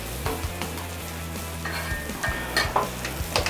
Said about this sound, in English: I pre-patted some sausage, Nisi sausage, state law. Put that down onto the griddle.